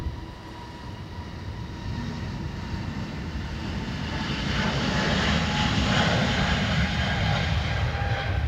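A jet airliner, an SAS flight, rolls down runway 10 right at Dublin Airport in windy weather, its engine roar steadily building and swelling louder as it accelerates toward takeoff, with no talk.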